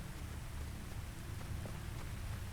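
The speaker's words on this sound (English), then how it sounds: "It might not come across stream very well, but it's raining." Rain falling in the Uru: Ages Beyond Myst video game, a steady low wash of rain noise continuing evenly throughout with no talk.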